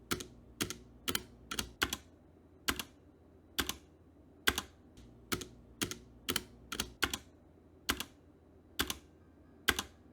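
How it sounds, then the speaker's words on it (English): Typing on a G.Skill KM360 mechanical keyboard with MX Cherry switches, crisp individual keystrokes in an uneven rhythm, close and clear, with no talking. "I prefer the sound coming from the G.Skill keyboard, not just with the spacebar, but some other keys because there's less stabilizer rattle"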